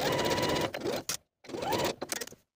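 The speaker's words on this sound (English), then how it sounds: "And then sew both of those slanted edges with a 5/8 inch seam allowance." Sewing machine stitching the slanted pocket edges of comfy pants, two short close bursts of rapid whirring separated by a brief pause.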